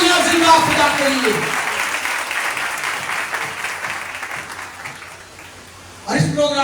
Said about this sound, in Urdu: زوردار تالیاں زندہ خدا کے لیے۔